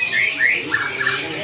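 Bright, thin chirps and short squawky calls from caged finches at a bird market, fairly close over a constant busy background murmur, with no clear talk.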